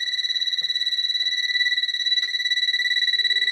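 A gas detector sounding its alarm during a simulated gas leak: a loud, piercing electronic tone pulsing rapidly and evenly throughout, with a faint click or two beneath it.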